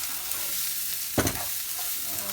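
Onion and garlic sweating in a pan while being stirred, a steady soft sizzle with one brief louder clatter of the spoon midway.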